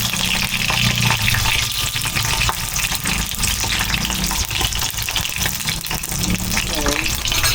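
Eggplant slices fry in hot, splattering oil, a loud, continuous crackle and sizzle close by with occasional stirring clatter throughout.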